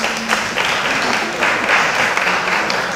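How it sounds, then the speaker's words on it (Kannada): Applause from an audience at an anniversary award and felicitation ceremony of a Karnataka association, a steady broadband patter of many hands lasting throughout, fairly loud and without pauses. "ನಾನು ಇದಕ್ಕಾದರೂ ಚಪ್ಪಾಳೆಯನ್ನು ನಿರೀಕ್ಷಿಸ್ತಾ ಇದ್ದೀನಿ"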